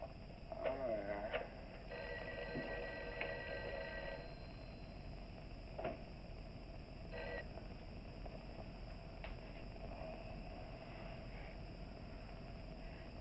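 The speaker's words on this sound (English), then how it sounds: "Mary, see if you can get Jan on the phone." A telephone rings unanswered in the 1959 film The Wasp Woman, a faint repeating ring down an old line against a steady hiss, with voices talking at times.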